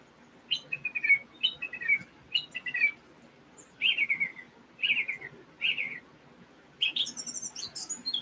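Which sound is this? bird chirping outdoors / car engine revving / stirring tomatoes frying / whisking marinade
bird chirping outdoors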